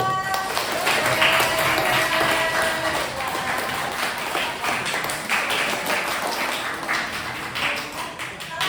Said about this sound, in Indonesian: tepuk tangan dulu untuk Rara